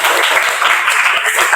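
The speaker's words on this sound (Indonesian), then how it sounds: "Oke, kita beri tepuk tangan." Students in a class at an Islamic senior high school applaud their classmates, with brisk, loud clapping from a group close by that lasts a moment, a voice faintly mixed in.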